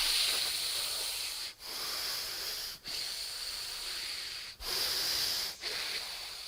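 Gentle breathing during meditation: slow, hissing breaths near the microphone, each long inhale or exhale separated by brief pauses, soft and steady with no talking.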